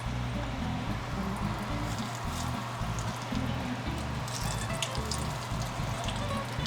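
Cheese-filled food frying in a pan gives a steady, dense sizzle with crackling and popping that carries on evenly throughout, up close, with no talk over it.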